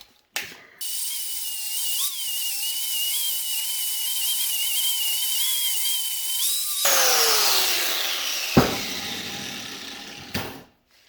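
Angle grinder fitted with a flap disc and mounted in a swivel grinder stand: a steady, high motor whine that shifts into rough, broadband grinding as the disc bites the work, with a sharp knock near the end before it cuts off.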